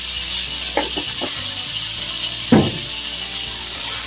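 Chira (flattened rice) pakoras fry in oil with a steady, hissing sizzle, broken by a few soft clinks of a utensil and one louder knock near the pan.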